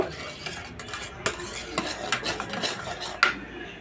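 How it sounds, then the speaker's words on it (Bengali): Oil and salt are mixed in a bowl for a palm cake batter: a brisk run of scraping stirs with sharp clinks of a spoon against the bowl, close and fairly loud, with no talking. "তেলটাকে খুব ভালোভাবে আমি মিক্স করে নেব"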